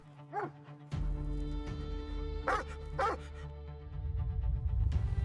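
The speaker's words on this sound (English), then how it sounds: "My neighbor's dog barks." A neighbour's dog barks a few times, sharp and fairly close, during a backyard ground collapse as patio stones lift, and a low rumbling noise builds underneath and grows louder.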